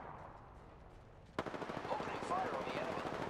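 Rapid automatic gunfire in Apex Legends erupts suddenly after a quiet stretch and keeps going as a sustained burst, with brief high chirping effects layered over the shooting.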